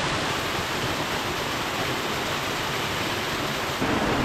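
A waterfall in steep, rugged mountain country where tahr are hunted, a dense continuous rushing roar of falling water, broad and loud, steady throughout with a slight surge at the end.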